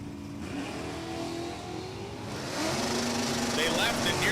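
A 1967 Camaro with a 396 big block and a 1979 Pontiac Le Mans with a 301 race down a drag strip, engines roaring and rising in pitch under a track announcer's commentary.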